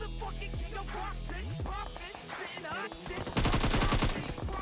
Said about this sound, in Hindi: अब यहाँ पर एक स्क्वाड थी जिसके ऊपर फायर हुआ